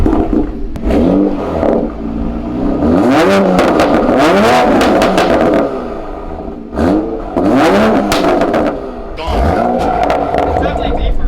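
A 2020 Toyota Supra fitted with an AWE Tuning resonated exhaust revs repeatedly up close, each loud rising blip falling away in a series of throttle stabs with brief pauses between.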